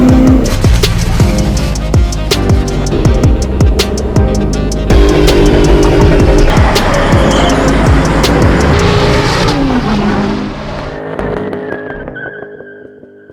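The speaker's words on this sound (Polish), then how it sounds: "skręcania po śliskiej nawierzchni na zablokowanych przednich kołach" A car skids and slides on a slippery winter road with locked front wheels, tires squealing and screeching repeatedly over a loud engine, then the noise fades away toward the end.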